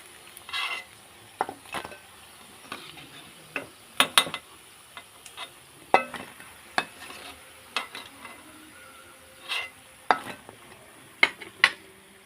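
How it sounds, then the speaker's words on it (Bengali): Steady low sizzle of chicken pakoras deep frying in oil, with repeated sharp clinks and scrapes of a utensil against the pan, no voices. "এইভাবে কিন্তু সবগুলো আমি ভেজে নেবো একসাথে"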